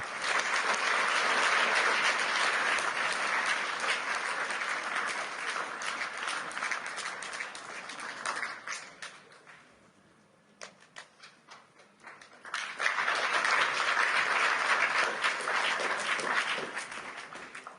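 A crowd applauds steadily and fairly loudly, dies down to scattered claps, then breaks into another full round of clapping.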